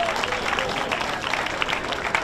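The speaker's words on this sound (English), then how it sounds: "Let's give them a big, big round of applause." Crowd at a junior livestock show applauds a group of seven or eight kids, a dense, continuous wash of clapping and some crowd noise over a couple of seconds.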